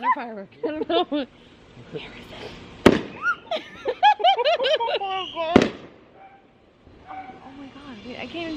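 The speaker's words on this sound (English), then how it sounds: "Got a firework." Fireworks bang sharply twice at a backyard pool party, loud close cracks that stand out over a woman singing and people talking throughout.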